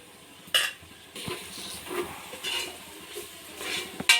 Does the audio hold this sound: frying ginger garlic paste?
yes